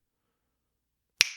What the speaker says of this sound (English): snap your fingers